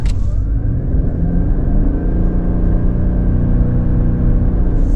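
A 2026 Subaru Crosstrek Hybrid pulls away with a steady low rumble and faint whirring, heard from inside the cabin.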